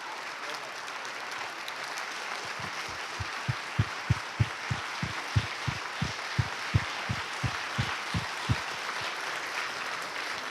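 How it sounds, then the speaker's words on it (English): Audience applause for Congressman Jared Polis and Speaker Andrew Omanoff at the Be the Change Forum, a steady crowd wash with a run of distinct, evenly spaced heavy claps or thumps standing out through the middle. "let's give a last round of applause to Congressman Jared Polis and Speaker Andrew Omanoff"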